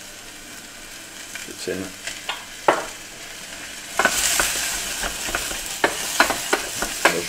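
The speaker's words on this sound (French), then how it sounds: "Faites revenir un petit peu les panais comme ça" Parsnips sautéing in a pan, scraped and stirred with a utensil in irregular knocks and scrapes, then a louder sizzle joins under the stirring, close by; a voice says a couple of words.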